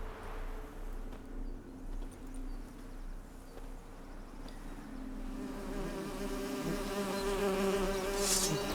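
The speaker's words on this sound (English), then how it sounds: "Oh, am I gonna be fighting with the bees?" Bees buzzing in The Witcher 3, a steady insect drone that grows louder toward the end over soft ambient game sound.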